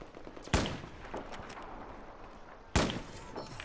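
Sniper rifle in Battlefield 4, two sharp, loud single shots about two seconds apart, each with a short echoing tail over low background game noise.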